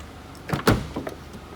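Rear power windows of a 2007 Mazda 6i touring whir briefly in a couple of short motor pulses, close and quiet inside the parked car with no talking.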